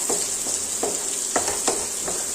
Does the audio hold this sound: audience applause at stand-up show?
no